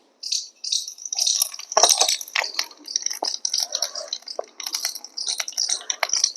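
Cumin and ajwain seeds drop into hot oil in a village-style Punjabi kitchen, giving a bright, crackling sizzle that starts abruptly and keeps popping and spitting near the microphone, with no voices.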